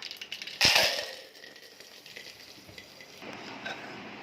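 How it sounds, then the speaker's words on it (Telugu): Curry leaves dropped into hot oil with tempering seeds for a tomato chilli pickle, a sharp loud burst of sizzling and crackling that quickly settles into a softer steady frying hiss. "నూనె పోసిన తర్వాత పోపు గింజలు ఉన్నాయి, కరివేపాకు వేస్తున్నా"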